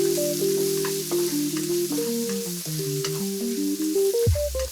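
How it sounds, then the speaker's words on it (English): Lap cheong (Cantonese sausage) and dried shrimp are stir-fried in shallot oil, giving a steady sizzle with scraping and stirring under a tuneful background melody, and no voices. "Using the shallot oil, stir fry your lapcheon."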